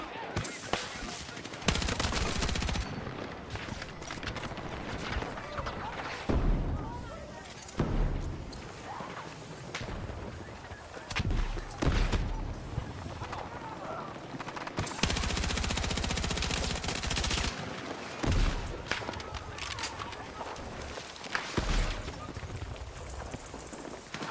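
Gunfire in the video game Battlefield 6, repeated shots and bursts at varying distances over a constant battlefield din, with players talking now and then.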